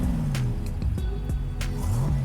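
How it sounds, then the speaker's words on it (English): Classic Corvette C3 engine running loud and steady with a low rumbling tone and slight pitch swells, as if just after starting up. "So, starting the car up."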